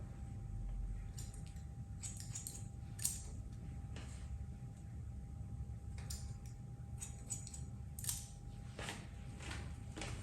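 Scissors snip hair during a round layer haircut, quick crisp clicks arriving in small irregular bursts, close and quiet, with pauses between the runs of cuts and no talking.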